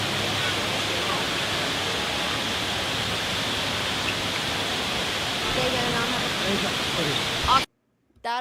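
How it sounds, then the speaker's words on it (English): A loud rainforest waterfall roars as a dense, steady wash of noise, unbroken and close, cutting off abruptly near the end. "That is how loud the waterfall was."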